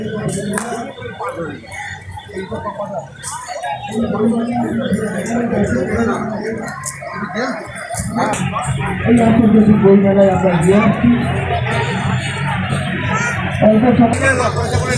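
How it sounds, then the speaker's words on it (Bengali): Crowd hubbub at the Kolkata Book Fair 2024 around the food stalls, a steady murmur of many voices that thickens in the second half, with a nearby speaker talking over it. "আর এই জায়গাটাতে কিন্তু বেশ ভালো ভিড় হয়েছে"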